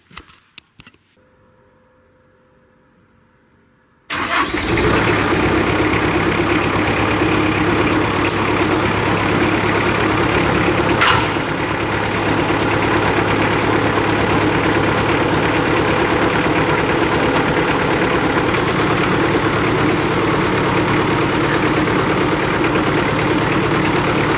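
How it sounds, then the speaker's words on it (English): A Bobcat loader's engine cranks and catches after a few quiet seconds, then settles into a steady, loud, low diesel idle that runs unbroken to the end. "We're going to fire this machine up and let's see if it's building a bunch of pressure or what"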